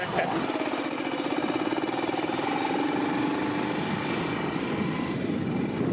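A motorcycle carrying three riders near a police roadblock in Cameroon, its engine running with a steady buzzing drone throughout, loud and close, with voices talking over it.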